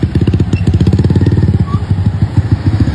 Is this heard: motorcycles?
yes